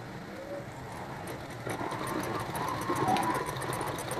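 A Salika sewing machine stitches steadily with a close, even mechanical whir that grows louder partway through and carries a rapid, regular needle rhythm.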